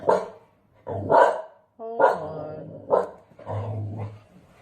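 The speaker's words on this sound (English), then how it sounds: "my dog is barking" A dog barks several times in short bursts, loud and fairly close, with brief pauses between barks and a low growly tone on some of them.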